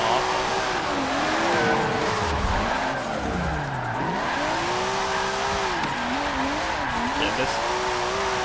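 A car in Forza Motorsport 7 drifts with its engine screaming near redline, the pitch wavering and dipping as it slides through corners, tires squealing steadily underneath; a voice speaks briefly.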